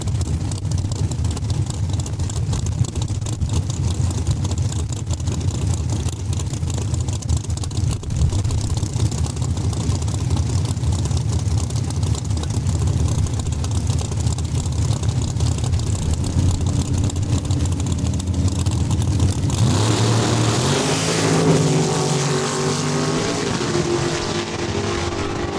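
Dragsters at a drag race starting line at Saskatchewan International Raceway give off a steady, dense engine roar, then a sharper surge of rising engine tones near the end. The sound is loud and sustained throughout, with no voices over it.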